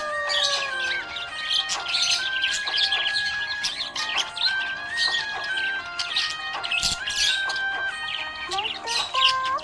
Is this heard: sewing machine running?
no